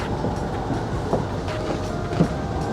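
Steady low rumble of a train rolling along rails in Japan, heard from one of the front seats inside a carriage, with faint rhythmic clacks and a continuous hum.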